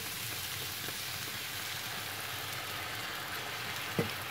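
Turnip sizzles steadily in a frying pan after water is poured in, giving an even, close hiss of frying and steam that runs the whole time with no talking.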